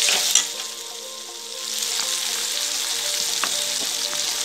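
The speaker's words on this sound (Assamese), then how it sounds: "দি এইখিনি ভাল ধৰণে লৰাই ইয়াত পেটুখিনি দি আকৌ অলপ 2 মিনিটমান ভাজি দিছোঁ" Fish belly frying in a wok with onion, tomato and green chillies, a steady close hiss of sizzling oil with a sharp spatter near the start and occasional scraping stirs.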